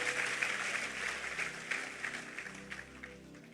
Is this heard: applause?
yes